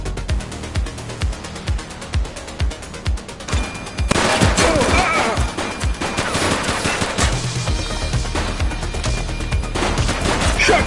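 Gunfire in the police video game The Precinct: a steady rhythm of single shots at first, then heavy overlapping automatic bursts and volleys, loud and close, continuing to the end.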